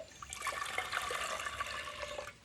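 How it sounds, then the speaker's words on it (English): Water pours and trickles into a pot of play stew, a soft continuous splashing close by with no talk. "I might put a little bit of water in."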